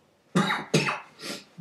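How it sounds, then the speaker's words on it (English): A man coughs twice in quick, harsh bursts, followed by a softer third cough and the start of another, close to the mic with no talk. "I've got quite a cough on me at the moment"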